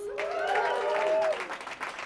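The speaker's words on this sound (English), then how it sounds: "Give yourselves a round of applause." Audience applause at a stand-up comedy show in a small venue, steady clapping from the crowd running under a melodic voice throughout.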